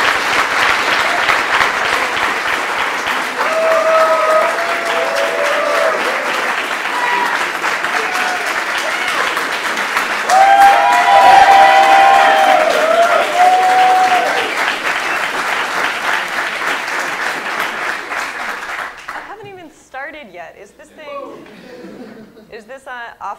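An audience claps steadily to welcome a speaker to the stage at a talk, sustained applause with a few chuckles, fading out near the end before quiet talk begins.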